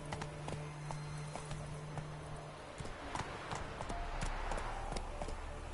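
Hooves of the horse Roach clip-clop steadily in Witcher 3, with an even trotting rhythm of fairly quiet, close taps over a low background hum.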